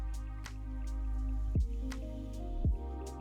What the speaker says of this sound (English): Don't know if you can hear the rain in the background, but it is actually raining.